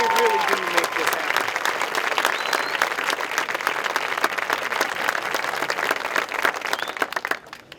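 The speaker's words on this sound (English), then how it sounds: "I want to just give all of these folks a big round of applause" Steady applause from an audience at a high school athletic awards ceremony, a dense wash of many hands clapping that holds for several seconds before tapering off near the end.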